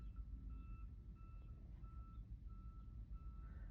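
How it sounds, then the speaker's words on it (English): Faint, evenly spaced electronic beeps repeat over a low rumbling engine drone, muffled and distant like an alarm clock heard through a closed window. "with the window up, it sounds like an alarm clock"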